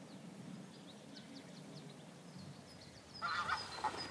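A wild goose honks somewhere in the open after a migratory flight: soft, distant nasal calls at first, then a louder, nearer burst of honking over steady outdoor background noise.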